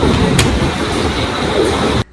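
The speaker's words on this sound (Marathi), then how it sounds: "ही बघा आमची ट्रेन पण आली आहे" A train arriving at a railway station after rain, a loud, steady rumble and rattle of wheels close by that cuts off abruptly. There is no talk.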